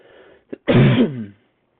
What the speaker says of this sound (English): cough is bothering me